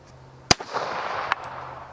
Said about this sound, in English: up next, 45 ACP from the 1911.